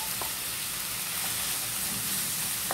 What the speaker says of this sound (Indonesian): Kita tumis dulu bawang merahnya ya.